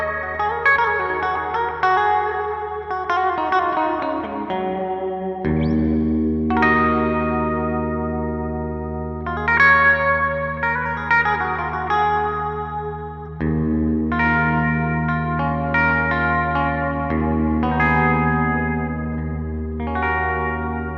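Gibson Les Paul electric guitar with triple humbuckers plays a series of chords and arpeggiated notes with a clean, shimmering tone and light effects, steady and unaccompanied for about twenty seconds.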